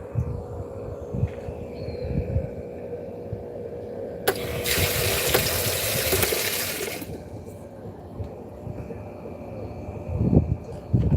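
A washing machine on a permanent press cycle fills with cold water only, a steady rushing inflow lasting about three seconds that rises over a low mechanical hum and then drops back to the hum.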